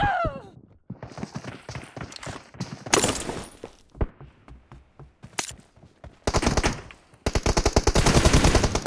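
Gunfire in a multiplayer shooter video game: loud rapid automatic bursts and single shots, broken by short pauses and growing denser toward the end.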